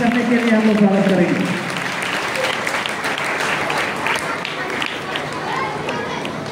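Hearty applause from an audience welcoming guests at a cultural program, starting right after a speaking voice and continuing as sustained clapping for several seconds.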